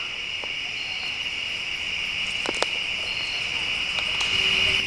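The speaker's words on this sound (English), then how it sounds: "I can hear the insects in the trees, the crickets and everything." Crickets and other insects chirp in a steady, high, continuous drone from the trees at a night campsite in Pymatuning State Park, with a few faint clicks and crackles nearby.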